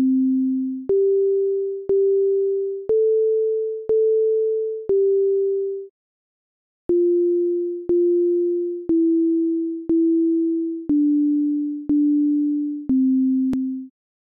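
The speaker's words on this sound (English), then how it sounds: "this is my program that plays Twinkle Twinkle Little Star" A pure sine-tone synth in Sonic Pi plays the melody of Twinkle Twinkle Little Star as thirteen evenly spaced notes, each with a clean attack and short decay. There is a brief pause midway, the tones are steady and loud, and no voice is heard.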